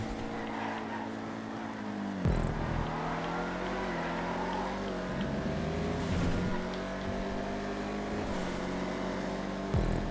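Vigero muscle cars racing in GTA 5, a steady loud engine drone with gear shifts and revving changes throughout, no talking.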